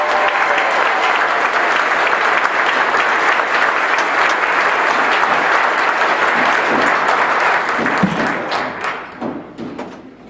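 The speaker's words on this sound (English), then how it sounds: "Please give these guys a round of applause for continuing to show up." An audience delivers a long, loud round of applause that holds steady for several seconds, then thins into scattered claps and thumps as it fades out.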